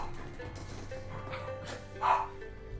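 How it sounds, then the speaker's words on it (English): Dogs at home bark and yip in short bursts, a few sharp barks with one louder yelp near the end, mid-distance indoors over quiet room tone. "This is the joys of having alert dogs in your life."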